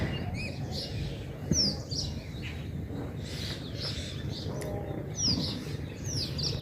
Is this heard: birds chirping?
yes